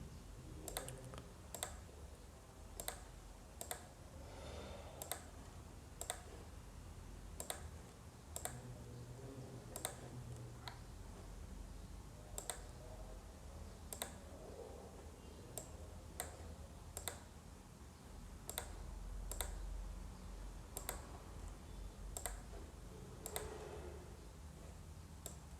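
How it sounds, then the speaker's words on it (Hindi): Sharp, isolated mouse clicks repeat at irregular intervals, about twenty over the span, while options are selected one by one in the Elementor website builder; the clicks are close and crisp over a faint room hum, with no talking. "एक एक ऑप्शन के ऊपर मैं क्लिक करता हूँ"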